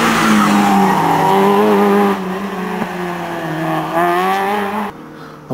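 Renault Clio RS race car at a hill climb, passing close with a loud, rising and falling engine howl as it shifts and accelerates, then fading away.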